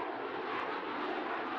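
An F/A-18E/F Super Hornet fighter jet roars past with afterburners lit, a loud, sustained broadband engine rumble and hiss with no voices.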